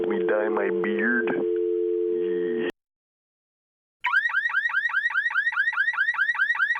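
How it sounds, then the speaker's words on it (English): A weak-sounding car alarm blares a rapid run of rising whoops, loud and evenly repeated. A steady electronic tone and a moment of silence come before it. "That's the sound of a wimpy car alarm."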